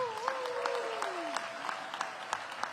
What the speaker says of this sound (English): Please give Paul a big round of applause.